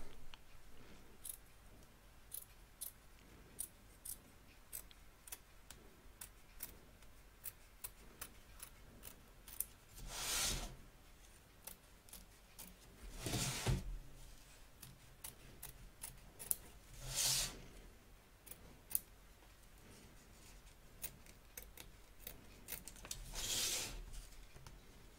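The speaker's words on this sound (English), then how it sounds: "Trim away the excess fabric and stiffener from both back and front of your hoop." Scissors snip away excess fabric and stiffener around an embroidery hoop, giving a few distinct, close cutting bursts spread through a quiet stretch with light ticking handling noises between them.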